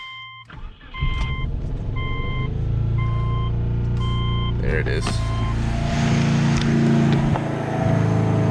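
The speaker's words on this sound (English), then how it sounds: "the mass airflow sensor is unplugged, so it's gonna stay revved at 4K" A car engine held at about 4,000 rpm with its mass airflow sensor unplugged in cold weather gives a steady, strained drone. Repeated electronic warning beeps sound over it, and a person speaks briefly.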